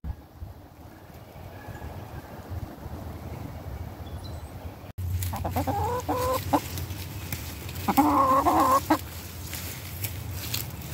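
Homestead chickens cluck and murmur softly at first, then a louder, nearer flurry of clucking and hen calls breaks out over a low background hum outdoors, with no voices.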